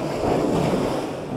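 Sea waves washing in and surging steadily, a continuous broad roar with wind buffeting the microphone, close and loud with no talk.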